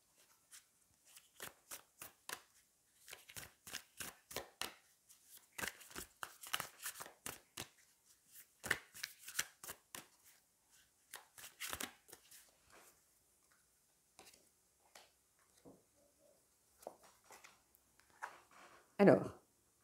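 Tarot cards shuffle in quick papery bursts, close and crisp, repeating in riffled runs over about twenty seconds with brief pauses between handfuls.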